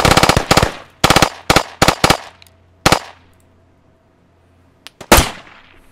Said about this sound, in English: I like that PPSH in the distance.